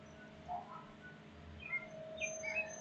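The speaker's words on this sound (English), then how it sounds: "there's some birds chirping yet" Faint birds chirp outdoors near a front porch, a few short, scattered tweets against a steady low background hum with no talking.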